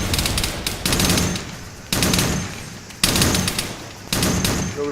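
Arma 3 patrol boat machine guns fire at night in loud, sustained bursts, four or five long rattling volleys separated by brief gaps.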